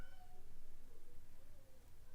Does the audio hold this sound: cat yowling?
yes